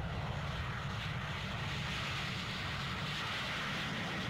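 Concorde 002 supersonic airliner taking off, a steady loud broadband jet engine roar filling the whole stretch without pause.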